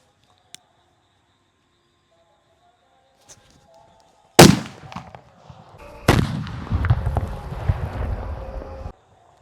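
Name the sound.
sutli bomb firecracker exploding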